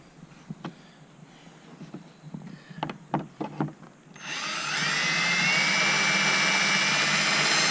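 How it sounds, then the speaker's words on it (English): A power drill bores holes for a depth finder and transducer mount on a kayak, starting abruptly after some scattered handling knocks and then whining loudly and steadily to the end. "All right, we got our holes drilled."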